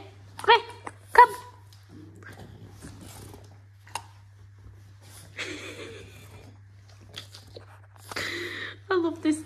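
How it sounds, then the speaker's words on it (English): A small pet dog whimpers and gives scattered high yips and short whines in separate bursts across a quiet room, with a steady low hum underneath. "I love this dog."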